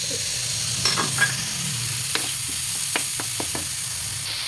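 Ground meat sizzling steadily in a hot pan for a Filipino shanghai and bottle gourd soup, with scattered scrapes and clicks from stirring over a constant frying hiss.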